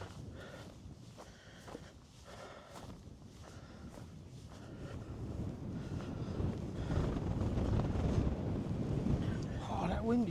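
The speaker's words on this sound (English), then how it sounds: "Oh, that wind is blowing." Wind gusts across a countryside trail in Kent, a blustery rush that builds louder toward the end, with footsteps early on and a voice speaking over it.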